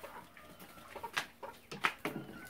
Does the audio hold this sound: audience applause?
no